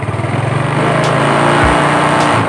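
A Yamaha Mio Sporty scooter engine idles with a close, pulsing putter, then gets a quick twist of throttle that lifts it into a short rev.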